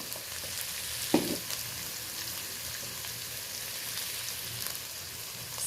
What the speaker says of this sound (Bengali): টমেটোটা একটুখানি গলে যাবে, ভালো করে নেড়ে নিচ্ছি